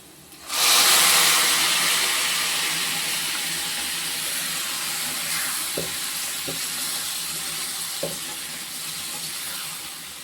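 Raw papaya is poured into hot oil with golden fried onions and breaks into a loud, sudden sizzle that slowly fades into a steady frying hiss, with a few soft clinks of a utensil stirring the pan.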